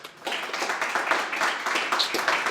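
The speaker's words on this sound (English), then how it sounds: "let's give them a round of applause" An audience at a business talk gives a round of applause, a dense, steady patter of many hands clapping at moderate volume that lasts throughout.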